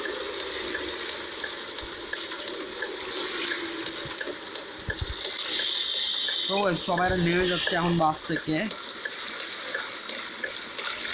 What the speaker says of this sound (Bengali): ও ভাই স্যার বৃষ্টি পড়ছে